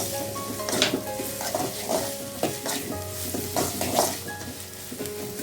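Onions fry and sizzle in a pan for a Sunday beef curry, with a steady crackle broken by repeated scraping stirs and occasional clinks of a utensil against the pan, close and continuous with no talk.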